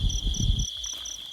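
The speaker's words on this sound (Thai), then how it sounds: "ลองฟังเสียงจิงหลีดเบิ้งเด้อค่ะพ่อแม่พี่น้องว่ามันสิหลายสำใดเนาะ" Crickets in a rice field at night chirp with a steady high trill and evenly spaced pulses, while low rustling and handling noise sit underneath for the first half.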